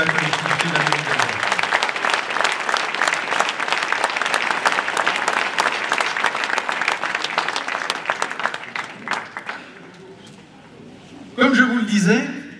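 A hall full of people applauds elected officials and local government staff at a New Year's greetings ceremony, a dense sustained clapping that thins out toward the end before a voice begins speaking.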